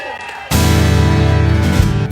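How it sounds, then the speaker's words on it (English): A comedy club audience at The North Door in Austin, Texas breaks into loud, sustained applause and cheering after a near-silent moment, the clapping and whoops starting abruptly and holding dense and close for about two seconds. "Let's give her a round of applause."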